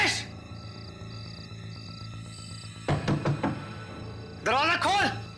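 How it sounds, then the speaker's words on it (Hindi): Someone knocks repeatedly on a door in a Hindi horror drama: a burst of several sharp knocks midway, after a sustained tonal background, followed by a loud vocal outburst. "तुम यहाँ खड़े रहकर लगातार दरवाजा नॉक करते रहो"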